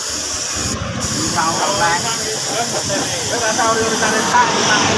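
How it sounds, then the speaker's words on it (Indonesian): Close, continuous hiss of clear coat being sprayed onto a Honda Karisma motorcycle body panel over metallic blue paint, steady throughout with someone talking over it. "Nah, ini kita semprot clear seperti ini."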